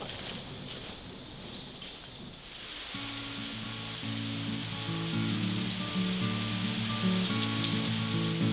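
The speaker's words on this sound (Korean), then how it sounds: "애일당에 소나기가 내립니다." A sudden rain shower falls on a 300-year-old traditional house, a soft hissing patter that continues as gentle music with sustained tones rises over it and grows louder.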